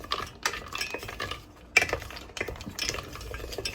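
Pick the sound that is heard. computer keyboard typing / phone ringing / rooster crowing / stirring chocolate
stirring chocolate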